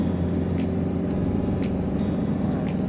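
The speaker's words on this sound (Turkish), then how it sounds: "Bakın araba devirlenmeye başladı." Fiat Ducato van engine rising in revs on cruise control, a steady close rumbling drone with a faint rhythmic ticking, inside the cab, no talk.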